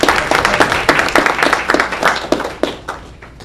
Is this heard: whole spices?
no